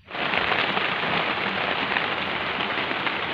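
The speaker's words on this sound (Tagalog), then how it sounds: "yung pag-ulan kahapon." Rain falls steadily on a surface in a dense, even hiss that starts abruptly and holds at a constant level, with no voices.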